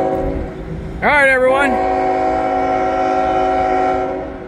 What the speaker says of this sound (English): There's Z150 as promised. That's a grain train, all right.